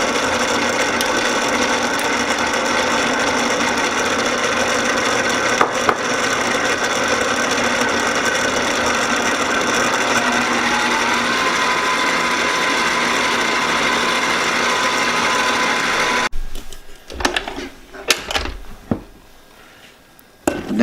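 An electric mixer runs steadily for a long stretch, blending almond extract and two eggs into almond crunch cookie dough, a continuous whirring hum that cuts off into scattered clanks and knocks of bowl and beaters.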